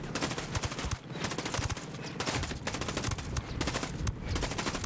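Dense bursts of rapid automatic gunfire from the shooter game Ghost Recon Breakpoint, loud and sustained with brief gaps between volleys and no talking.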